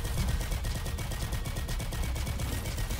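Dart Spitter weapon in Roboquest firing a rapid sustained barrage, loud rattling bursts in a steady machine-gun rhythm, close and continuous.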